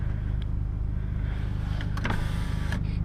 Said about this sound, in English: get a little sound bite of the exhaust in cabin